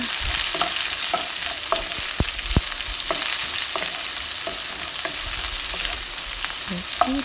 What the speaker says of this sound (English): Once it's slightly dark brown, add your onions. Give it a nice stir.